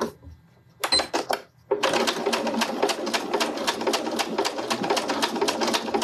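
A sewing machine stitches a seam on a fabric pouch with a zipper and tabs: a few short bursts of stitching, a pause, then a steady run of rapid, evenly pulsing needle strokes, close and clear.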